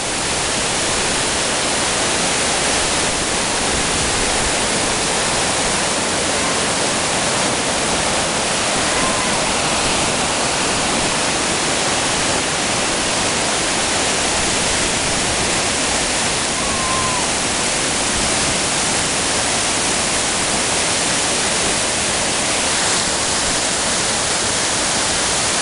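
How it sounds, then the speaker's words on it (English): Naramata Creek Falls, several large cascades dropping off ledges in one spot, roaring as a loud, steady broadband rush of falling water heard up close for the whole stretch. "Then the big falls up above. One, two, three big falls all in this one spot."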